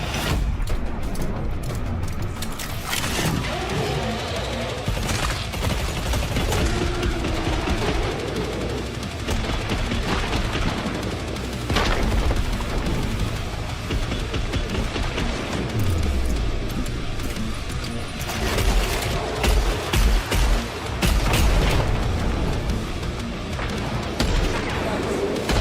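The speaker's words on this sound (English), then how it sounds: "These real-world weapons provide players with powerful new ways to shred Zeds and rip enemies apart." Real-world firearms fire in a zombie-shooter game trailer as dense, loud bursts of automatic gunfire and single shots, with booms and mechanical clatter, continuing for most of the stretch with a voice speaking at times.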